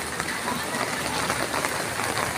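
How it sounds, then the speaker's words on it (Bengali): Heavy rain falls on a flooded, waterlogged street in Mymensingh, making a dense, even hiss of drops splashing on water that runs without a break at a moderate level. "তার উপরই এই বৃষ্টি এখনো অব্যাহত রয়েছে।"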